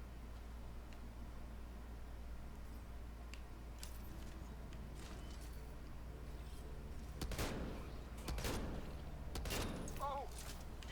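Gunfire from shooting in Mass Effect Andromeda comes as scattered sharp cracks over a low steady hum, quiet at first, then clustered bursts near the end.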